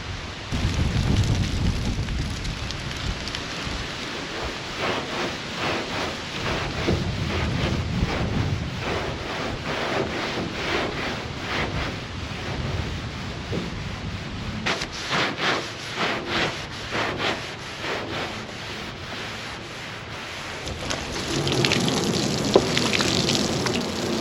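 Water spraying hard across a very dirty 1977 Pontiac Trans Am during a wash, a continuous rushing hiss with gusty, wind-buffeted surges that swell and ease, heard close and with no talking.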